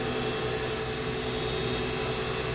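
A 2000 Haas VF-2 CNC mill's geared spindle runs at its top speed of 10,000 RPM, producing a loud, steady high-pitched whine over a constant mechanical hum that holds level throughout.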